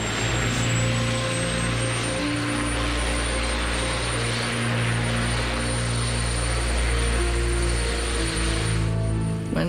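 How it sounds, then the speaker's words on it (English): Helicopter carrying Nixon lifting off, a loud steady engine and rotor roar with a rising whine that holds throughout, no voices. "As the helicopter began to rise,"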